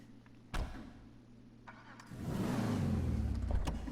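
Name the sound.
car engine in the video game GTA V Online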